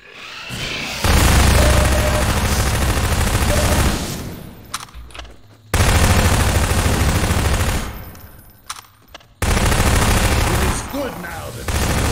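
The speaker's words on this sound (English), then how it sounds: "I literally can't hear this SMG it's so fucking loud" A submachine gun fires in long, loud bursts in the shooter game Half-Life 2: Episode Two, three sustained volleys separated by short pauses with scattered smaller clatters between them.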